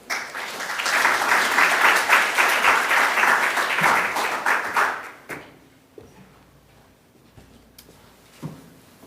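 Audience applause welcoming a speaker at a lecture on emerging therapies for dyslipidemia, a full room clapping steadily for about five seconds before thinning into scattered claps and quiet room tone.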